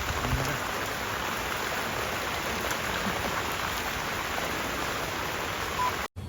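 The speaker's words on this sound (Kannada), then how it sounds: "ಓವರ್ ಮಳೆ ನೋಡಿ" Steady, dense rain pours down without a break, a continuous broadband hiss of heavy downpour close by, with a brief dropout near the end.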